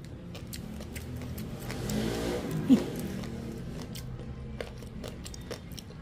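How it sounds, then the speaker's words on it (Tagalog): Motor tricycles rumble past on a street, engines rising and fading, with scattered clicks and background bustle. "Pasensya na kayo sa ingay ng mga tricycle kasi nga."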